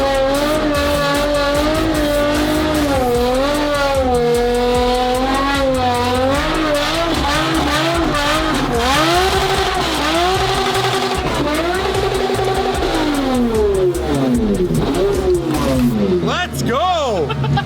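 A rebuilt Ferrari V12 with straight pipes screams through repeated high revs as its 1999-vintage tires break loose and squeal, loud and close, with excited voices talking over the wailing engine.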